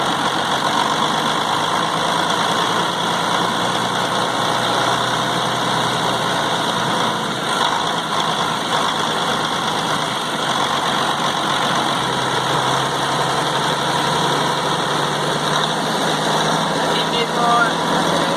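A car engine idling at low RPM on a test bench, a steady, even hum with a constant drone that holds level throughout without revving.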